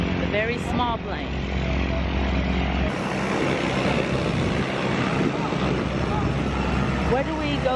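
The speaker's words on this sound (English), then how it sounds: "look at these little planes that we're about to get on." The loud, steady drone of a small propeller plane's engine fills the air in Kenya, with a voice speaking briefly at the start and end.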